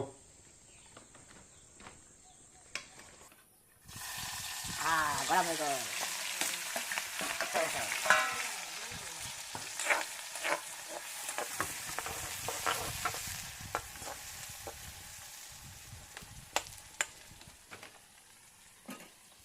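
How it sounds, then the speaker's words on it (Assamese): Sliced onions and green chillies drop into hot mustard oil in a pan at an outdoor jungle camp in Arunachal Pradesh, setting off a sudden loud, close sizzle that continues with crackles and stirring, while faint insects and birds carry on in the background. "তেল গৰম হ'বলৈ দিছে মিঠাতেল তাৰপিছত ইয়াত জলকীয়া পিঁয়াজ দিয়া হ'ব"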